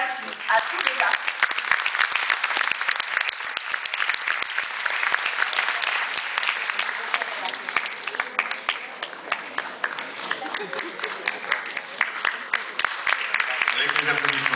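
Steady, dense audience applause at an award ceremony, a continuous wash of many hands clapping without pause throughout.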